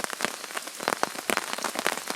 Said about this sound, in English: And the rain, which is getting harder actually